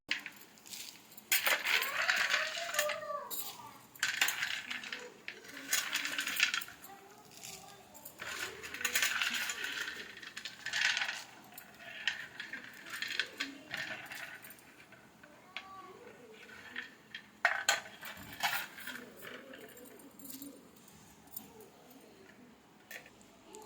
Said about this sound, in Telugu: ఇలా దంచుకోవాలండి దీనిని.